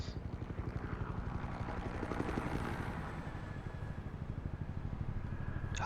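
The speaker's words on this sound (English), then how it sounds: "Helicopter." A helicopter in Batman: The Telltale Series thrums with a steady rotor pulse and engine drone, loud and continuous, rising slightly mid-way before a sharp sound cuts in at the end.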